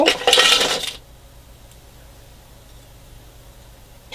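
A brief clattering rush of chocolate pieces pouring into a steel mixing bowl, loud for about a second, then near silence.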